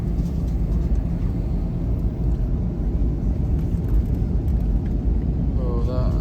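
Sri Lankan Airlines jet taxiing onto the runway before departure, heard from inside the cabin as a steady, loud low engine rumble throughout, with a faint rising tone near the end.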